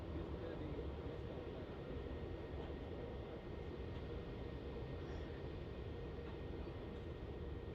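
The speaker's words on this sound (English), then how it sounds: "This is going to be Jetstar flight" A Jetstar passenger jet, flight JQ505 arriving from Sydney, rumbles in steadily at Melbourne Airport, a broad low continuous roar holding level throughout, fairly distant and without distinct peaks.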